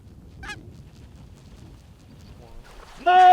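Canada geese give a faint honk early, then a loud, close burst of honking at the end after a quiet stretch of low background noise on a pond.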